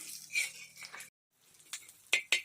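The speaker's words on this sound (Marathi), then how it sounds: "आणि वीस लसणाच्या पाकळ्या घालूया आणि दोन मिनटं असं परतून घेऊया" Poppy seeds, ginger and garlic are sautéed in a pan: soft sizzling with metal spatula scrapes and a few sharp clinks against the pan, briefly cutting out to silence midway.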